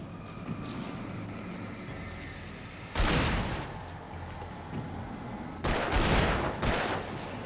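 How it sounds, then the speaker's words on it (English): Gunfire in the video game Alan Wake: a dense rattling volley of shots with a steady background score, then a second loud burst a few seconds later, close and heavy. "Don't keep shooting."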